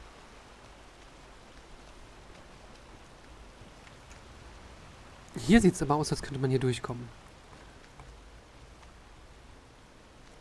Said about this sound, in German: Wirkt eher, als hätte es noch ein bisschen zugenommen an Regen.